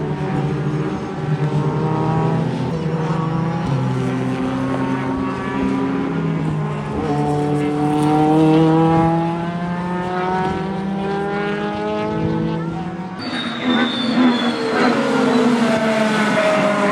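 Race cars circling the track at Silverstone, engines droning steadily from a middle distance with overlapping rising and falling pitches, one car's tone sweeping through near the end.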